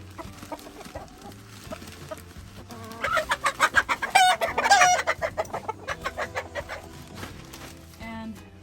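Chickens cluck and murmur in a coop, with a rapid run of louder, excited clucks building in the middle before settling back into quieter, scattered calls.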